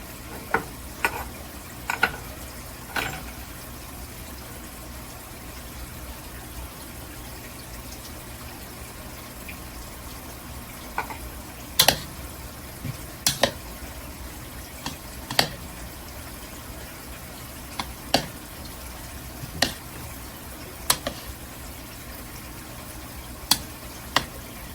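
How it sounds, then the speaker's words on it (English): Spoon stirring mozzarella, Cracker Barrel cheese and ham into a pasta salad: scattered soft clicks and clacks against the bowl over a quiet background, with no voices. "So that's our mozzarella cheese and our Cracker Barrel cheese and our ham. I'll mix those in first."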